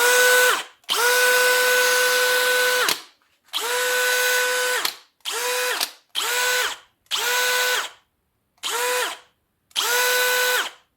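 Bosch GSB 185-LI cordless drill driver whirring in eight separate bursts at first and second speed, each a steady loud whine that spins up and stops, with short silences between runs.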